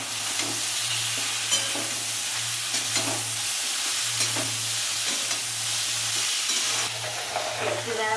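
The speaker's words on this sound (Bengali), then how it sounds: "আর এর সাথে রসুনটা দিয়ে দেবো।" Garlic sizzles steadily in a hot pan while being stirred for a Punjabi okra and chickpea masala, with a continuous close frying hiss broken by scraping stirs and a low hum underneath.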